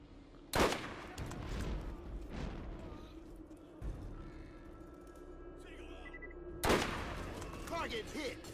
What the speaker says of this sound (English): I love sniper rifles in this game.